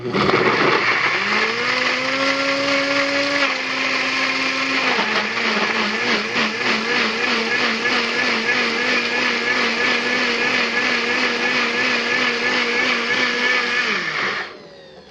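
A NutriBullet Prime NB-202 blender whirs loudly as it blends thick cucumber slices, its motor pitch climbing at start-up, shifting partway through, then running steadily for about fourteen seconds before cutting off abruptly.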